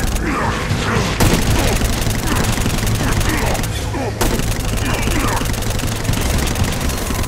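Rapid, chattering fire from the Exodus 10 locust plague gun in Saints Row: Gat out of Hell, a dense, continuous mechanical buzzing and popping that runs loud and close almost throughout, with two brief dropouts.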